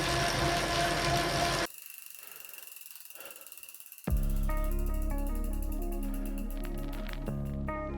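An Elite Direto smart bike trainer runs with a mechanical whir and layered droning, whining tones. A loud rushing burst comes first, then a quieter stretch before the steady hum returns at full strength.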